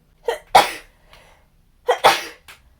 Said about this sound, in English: One of these days I'll make it through a video without sneezing.